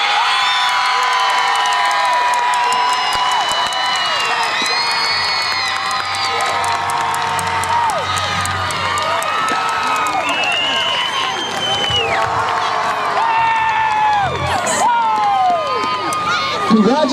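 A stadium crowd at a 2018 high school homecoming cheers for the homecoming queen announcement: continuous loud shouting, whoops and applause from many voices, with a low rumble of a public address voice underneath.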